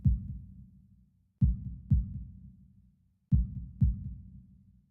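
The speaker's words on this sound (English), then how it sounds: "holding my breath in an attempt to hear my heartbeat" Heartbeat sound effect from the visual novel Katawa Shoujo: deep, muffled double thumps in a slow lub-dub pattern, two pairs of beats with a pause between, heard alone without voices.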